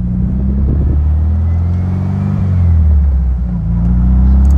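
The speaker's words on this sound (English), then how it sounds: "145 horsepower, but it sounds really good. I love those dual exhausts that come out there." A 1957 Porsche 356 Speedster replica with a 145-horsepower engine rumbling loud and close through dual exhausts, a deep steady idle that swells into a brief rev and settles again, with no talk.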